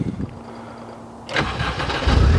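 A Honda Civic 2.0 i-VTEC Type R, mapped to 428 bhp, cranks briefly after a quiet pause and catches into a loud, rising engine note that settles toward idle.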